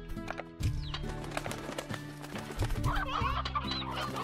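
Chickadee chickens clucking in the video game Slime Rancher, rapid clucks over a busy game soundtrack with clip-clop-like rhythmic tones and layered musical notes.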